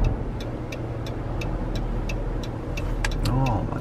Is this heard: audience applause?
no